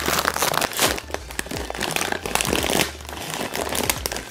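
A Lay's chips bag is torn open and handled close to the microphone, with loud, dense plastic crinkling and crackling that runs almost continuously.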